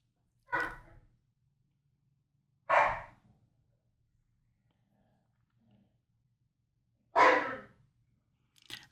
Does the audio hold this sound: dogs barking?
yes